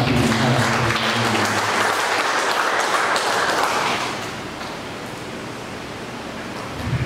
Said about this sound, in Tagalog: Isang malakas pong palakpak para sa ating lahat.